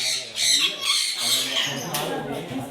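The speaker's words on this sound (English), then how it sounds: "today we are at the bird zone. See many birds are there." Harsh, raspy bird squawks repeat loudly and close by, overlapping in bursts with a constant chattering din behind them.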